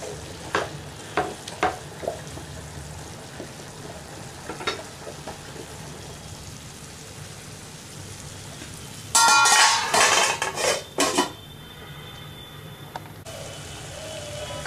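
Cauliflower stir-fry being stirred in a pan, with a faint steady sizzle and scattered light scraping clicks, then a burst of louder clattering stirring near the end.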